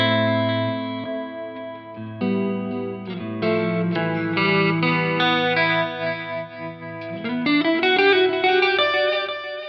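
Electric guitar played through a Mooer GE250 multi-effects processor on a fusion preset, a continuous run of sustained chorused notes and chords with reverb and light drive, steady and fairly loud with no voices.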